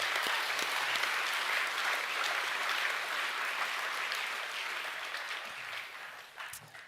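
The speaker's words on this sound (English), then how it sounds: "Another round of applause, please." Audience applause fills a school co-curricular awards ceremony, a steady dense wash of clapping from a large crowd that holds for several seconds before thinning out at the end.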